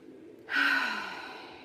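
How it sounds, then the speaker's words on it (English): A single deep breath drawn in and slowly let out as a long, close, audible sigh, starting sharply then fading away with no talking. "take a deep breath"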